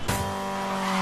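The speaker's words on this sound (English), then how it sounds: "over-accentuating the magnitude of a car crash in a video game" A brief car crash in a Need for Speed racing game: a sharp impact at the start, then a sustained engine roar and tire squeal, loud and close.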